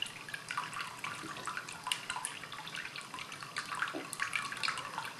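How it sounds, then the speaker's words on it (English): Water trickling steadily from four spouts of a hand-thrown, glazed ceramic flower-shaped pet fountain, a soft continuous splashing burble heard close and alone. "Waterfalls from 4 points on the thrown and hand formed water flower with a lovely sound, no splash."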